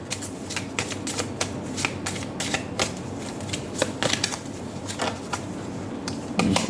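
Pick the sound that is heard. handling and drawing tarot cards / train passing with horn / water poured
handling and drawing tarot cards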